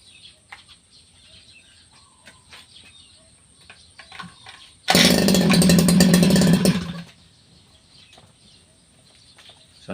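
A grass cutter's small engine, long in storage, fires up and runs at a loud, buzzing idle for about two seconds before cutting out, with quiet background noise before and after.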